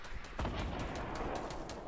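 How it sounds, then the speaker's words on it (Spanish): Gunfire from the video game Fortnite crackles as a few sharp game-audio shots over a dense, busy background, with one stronger report early on. "He pegado tres tiros."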